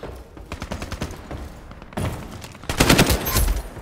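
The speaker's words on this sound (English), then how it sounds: "People shooting at him from both sides." Gunfire in the Ironsight video game crackles from several weapons at once, rapid automatic bursts in quick succession that grow louder and denser toward the end.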